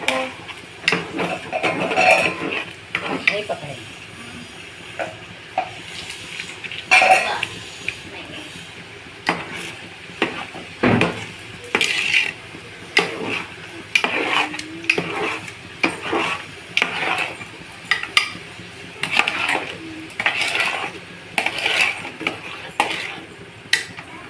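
Sugar is stirred into kesari sweet in a metal pan, a spoon scraping and knocking against the pan in irregular bursts, with talking in between.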